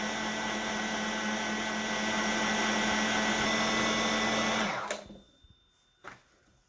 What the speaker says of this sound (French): Donc on laisse bien mixer, qu'il n'y ait plus de morceaux ni de filaments dedans.